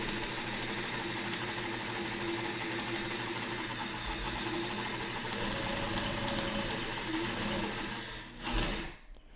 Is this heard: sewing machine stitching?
yes